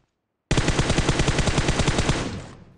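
Sustained automatic gunfire from a machine gun in the mobile battle royale game PUBG Mobile: a loud, rapid burst of shots starts abruptly after a short silence and runs steadily for about two seconds before tailing off.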